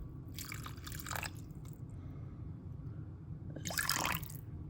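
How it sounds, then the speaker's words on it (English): Water poured into a crockpot pot to cover the bottom, heard as two short splashing bursts of liquid separated by a quiet gap, close and fairly soft. "you're gonna put some water in the pot, but not that much"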